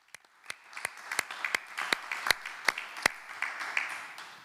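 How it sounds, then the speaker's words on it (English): Audience at a cooperative's general assembly claps in scattered, distinct hand claps that build into a modest round of applause, fairly quiet and without talk. "a final round of applause for the two"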